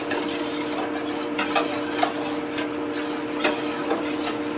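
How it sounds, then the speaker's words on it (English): A spoon stirs a thickening mixture in a cooking pot, the one bologna is later added to. It gives soft, scattered scrapes and light clinks against the pot over a steady low background hum, with no talking. "we're going to keep stirring this until it gets thick"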